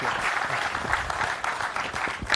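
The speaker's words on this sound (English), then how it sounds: "Ladies and gentlemen, please give a round of applause for Lynn Jarvis." Audience applause for Lynn Jarvis at a Movistar Yamaha 2016 YZR-M1 unveiling, a steady dense clapping from a sizeable crowd, fairly close and loud, with faint voices mixed in.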